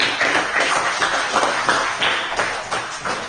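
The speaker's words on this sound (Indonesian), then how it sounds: "tepuk tangan untuk kelompok 4" A class applauds a student group after its presentation, giving scattered, uneven claps with distinct sharp hits in a small room, moderately loud and continuing for a few seconds with no talking.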